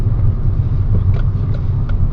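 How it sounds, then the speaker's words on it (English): Steady low engine drone and road rumble from a 2009 Honda Civic 1.8 i-VTEC automatic while driving, heard from inside the cabin with a few faint ticks and knocks over the hum. "But the noise, oh dear, this car sounds dreadful."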